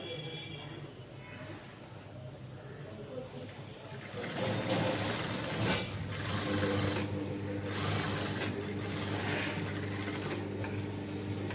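A sewing machine stitches a silk saree, running steadily from about four seconds onward after a quieter start, moderately loud with a continuous mechanical whir and clatter.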